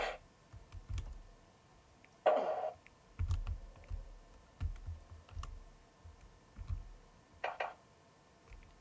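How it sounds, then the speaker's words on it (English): Computer keyboard keys are pressed during a game of Prince of Persia, giving soft irregular clicks and taps close by, with a few brief electronic game tones between them and no talking. "So I'm just playing with the keyboard at the moment."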